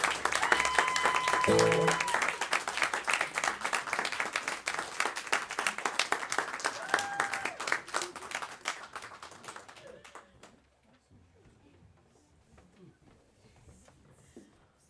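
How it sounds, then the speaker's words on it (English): Audience applause and cheering after a live music performance, loud and sustained for about ten seconds, then fading into quiet room noise and a few scattered claps. A voice briefly speaks over it near the start. "A round of applause."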